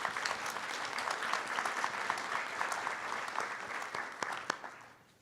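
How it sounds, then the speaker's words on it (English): Audience at a public health policy conference applauds the panelists, a sustained, moderately distant burst of many hands clapping with a few sharp individual claps before it fades out. "let's give our panelists a round of applause for their incredible work"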